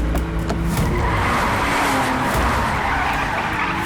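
A car skids hard during a chase in an action film, tires squealing in a sustained harsh screech over roaring engine noise, loud and close, with no speech.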